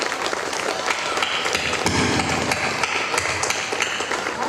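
An audience in a hall claps loudly together, a dense, steady wash of applause that holds evenly from start to finish.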